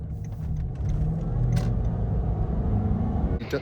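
A 2006 Range Rover L322 Supercharged engine revs up to a deep, sustained rumble, close by and steady, then drops off near the end with a faint click.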